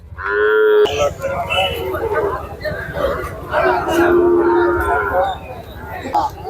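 Bargur cattle low repeatedly at a busy cattle market in Anthiyur, loud and close, with long drawn moos over a steady crowd murmur and people talking nearby.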